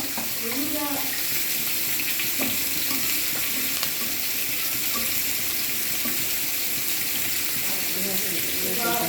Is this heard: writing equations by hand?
no